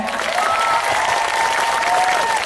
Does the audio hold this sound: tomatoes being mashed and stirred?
no